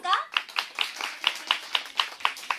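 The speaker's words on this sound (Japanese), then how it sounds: "パンパンパンパンパンパンパンパンパンパンっていうリズムで一緒に手拍子して一体感を高めていきたいと思います" Live-show crowd at the AiSOTOPE LOUNGE clapping along in steady rhythm, evenly spaced sharp claps about every quarter second, with a voice over the opening beats.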